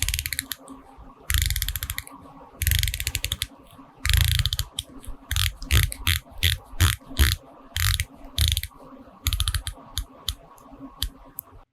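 The bezel of a Doxa Sub 200 dive watch turns in crisp, close ratcheting clicks, first in longer rapid runs and then in shorter separate bursts of several clicks each.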